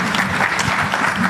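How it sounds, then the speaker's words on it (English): Conference audience applauding a panelist at a public debt event, a dense, even patter of many hands clapping at steady loudness through the short burst. "A round of applause for Dr. Henry"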